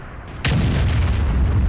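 A single heavy cannon shot booms from a tank in World of Tanks, one abrupt loud report followed by a sustained deep rumble that holds to the end, with no talking.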